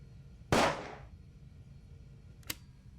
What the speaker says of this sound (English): It was a recording of a gunshot.